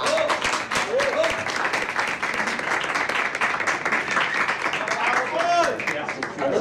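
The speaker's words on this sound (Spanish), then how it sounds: "Quiero un fuerte aplauso y que suba al escenario" A crowd claps and cheers continuously, a dense wash of applause with a voice calling out over it.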